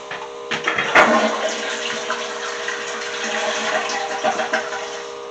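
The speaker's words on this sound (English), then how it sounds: "First thing we're going to do is suck all the water out of the tank." Water gurgles and slurps as a toilet sucker draws water out of a toilet tank in a house bathroom, with a sharp thump near the start and steady sloshing suction afterward, close and moderately loud.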